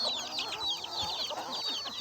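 Free-range country hens on a farm cluck and chatter continuously, several birds close by with overlapping quick calls and soft squawks.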